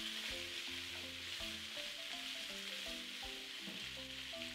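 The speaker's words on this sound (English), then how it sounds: "Saute these vegetables until they start to caramelize on the edges." Chopped vegetables sautéing in a hot pan for a chickpea and quinoa stir fry, a steady, continuous sizzle with faint stirring throughout, no talking.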